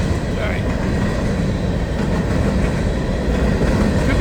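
Closed hopper cars of a rock train roll by at close range, a heavy steady rumble with a soft clickety-clack rhythm and faint talk underneath.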